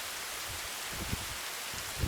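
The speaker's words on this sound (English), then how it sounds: "So that's the rain. You'll see it falling." Light rain falling on a hiking trail in the Scandinavian wilderness along the Nordlandsruta, a soft steady patter and hiss at low volume with a couple of faint low thumps, no voices.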